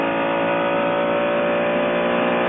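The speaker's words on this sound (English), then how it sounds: "The noise of the Mercedes-Benz is what everybody remarks upon. It sounds like a big, loud American car." A 1999 Mercedes-Benz Le Mans race car engine drones loudly and continuously from onboard, a sustained, harmonic-rich roar at steady high revs with no voices over it.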